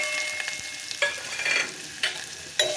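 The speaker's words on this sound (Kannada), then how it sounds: "ಒಂದು ಪಾತ್ರೆಗೆ ಒಂದು ಸ್ವಲ್ಪ ಎಣ್ಣೆ ಹಾಕಿ ಕಾಯಕ್ಕಿಟ್ಟೇನೆ. ಈಗ ಅದು ಕಾದತ್ರಿ. ಅದು ಈಗ ಅದಕ್ಕೆ ಈರುಳ್ಳಿ ಹಾಕೋಣ." Onion fries in hot oil in a pan, a continuous close sizzle broken by a few sharp stirring scrapes about once a second, with no voices.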